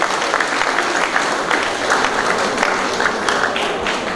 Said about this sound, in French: Est-ce qu'on peut les accompagner par un tonnerre d'applaudissements?